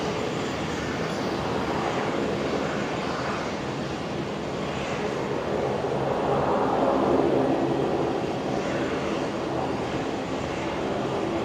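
A Boeing 717, the last one built, rolls in to land at Brisbane Airport with a broad, steady jet roar that swells a little in the middle, heard from a distance with no voices.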